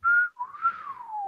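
A person whistles an imitation of R2-D2's droid chirps: a short steady tone, a brief pause, then a longer warbling phrase that rises and slowly falls, heard close and alone.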